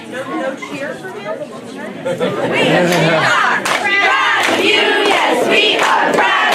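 An audience at a borough council meeting cheers and shouts for a newly sworn-in patrolman, a swelling burst of voices and whoops that grows louder and stays dense through the second half.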